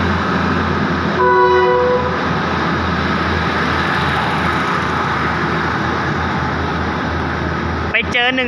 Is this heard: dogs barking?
no